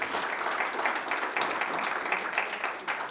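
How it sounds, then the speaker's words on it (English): An audience gives a steady round of applause at a business event, dense clapping that stays even and moderately loud throughout, with no voices over it. "Let's give her a round of applause."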